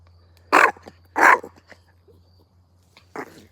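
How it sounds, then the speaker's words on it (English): A dog at an animal sanctuary gives two loud, close barks in quick succession, then a softer third bark after a pause, over a low steady hum. "She's gonna be sleeping for like 12 hours for those barks."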